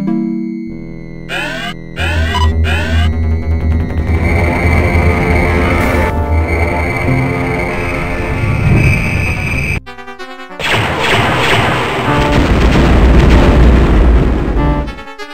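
The Death Star fires its superlaser in the Star Wars: X-Wing game, a loud rising energy blast followed by a heavy crashing explosion, with swelling orchestral music throughout and a brief cut near the end.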